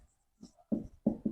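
Chalk taps and scratches on a board during a lecture, three short firm strokes after a faint start, heard close and alone.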